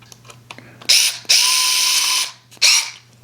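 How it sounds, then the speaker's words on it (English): Fanttik Nex S2 Pro electric screwdriver with a Phillips 0 bit driving tiny screws: two sustained high-pitched motor whirs, each lasting about a second, separated by short clicks and followed by a third brief burst, close and fairly loud. "if you want to get a screw started, you can give it a little manual turn, and then there you go. In it goes."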